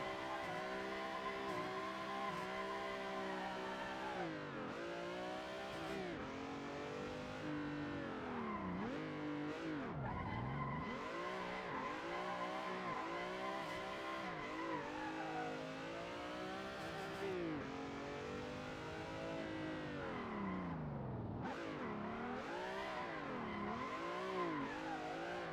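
A car drifts through long practice runs with its engine revving and tires squealing and skidding in sustained, loud waves, with no talking.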